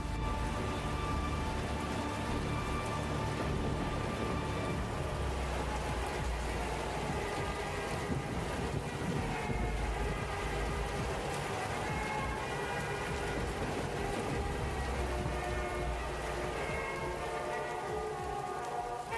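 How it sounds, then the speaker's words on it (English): Steady wind-driven rain at night by the seaside, a dense continuous hiss with a low rumble underneath, even and sustained throughout with no speech. "Parked by the seaside, he braved the wind and the rain,"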